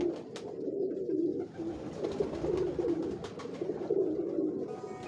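Pigeons coo steadily on a rooftop in Lahore, a continuous layered murmur of several birds near the microphone, with no talk over it.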